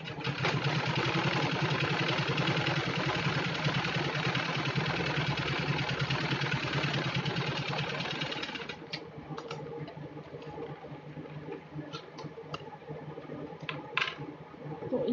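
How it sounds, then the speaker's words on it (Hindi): A sewing machine hums continuously while stitching the inside seam of a handmade fabric carry bag, running for several seconds before stopping. Small clicks and rustles of fabric handling follow. "इस साइड से हमने इसको सिलाई लगा देनी है अंदर से"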